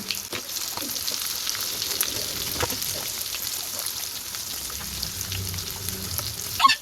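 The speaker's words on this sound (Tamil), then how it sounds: "இன் சைடும் மீடியம் ஃப்ளேமில் வச்சு நல்லா பொறிச்சு எடுத்துக்கலாம்" Beef pieces deep frying in a pan of oil over a medium flame for a fried beef gravy, giving a steady, close, loud sizzle and crackle throughout with no talking.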